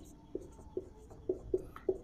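A marker writing on a board, a handful of short squeaky strokes in an irregular rhythm, faint and close in a quiet room.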